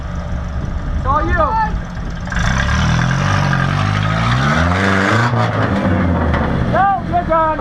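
An off-road vehicle at a waterfall obstacle revs hard at full throttle, engine pitch sweeping up and down in repeated surges, close and loud, with people talking around it.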